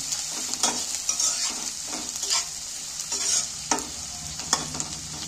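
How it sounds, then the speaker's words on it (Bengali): Chopped onions stirred and fried in hot oil for a steamed egg dish, with a steady bright sizzle and repeated scraping strokes of a spatula against the pan, close and alone without talk. "এবার আমি এইগুলো তেলের মধ্যে একটু নাড়াচাড়া করে ভালো করে ভেজে নেব।"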